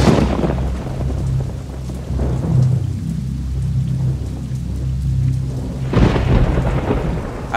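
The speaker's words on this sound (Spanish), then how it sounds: "Aquella noche llovía en la ciudad de Guanajuato y los relámpagos y los truenos no daban un" A thunderstorm over the city of Guanajuato, Mexico: steady rain hisses and patters on surfaces while loud thunder rumbles roll through, with a fresh sharp crack near the end, no voices.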